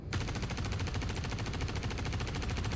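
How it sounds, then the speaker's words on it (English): Rapid full-auto fire from a Behring CQ7 bullpup rifle emptying its magazine in Star Citizen, a fast, evenly spaced stream of sharp shots hammering continuously and loudly up close, with no voices. "we're going to do a standard just mag dump fire test and semi-auto fire test for each of these"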